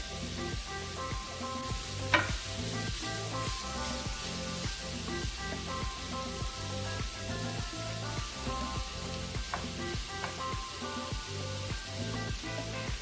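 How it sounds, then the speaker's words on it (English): Jackfruit sizzles in oil in a pan while it is stirred. A steady, even frying hiss runs throughout, with a regular scraping rhythm from the stirring and one sharper clack partway through. "You're going to want to mix the jackfruit around, get it covered completely with oil"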